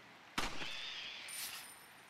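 One loud, sharp gunshot fires in Resident Evil 4 Redux, a sudden crack followed by a ringing echoing tail, with a faint second noise soon after; otherwise quiet.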